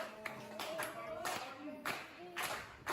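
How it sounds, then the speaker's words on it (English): A wrestling crowd claps in rhythmic bursts, several sharp claps spaced unevenly across a few seconds, moderately distant, with a voice talking over them. "Waiting for the claps to keep going."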